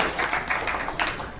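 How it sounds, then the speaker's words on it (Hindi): Short burst of audience applause at a district Congress party workers' meeting in Rewari, a dense patter of many hands clapping together at steady loudness. "जोरदार तालियां बजा के दोनों का स्वागत करें"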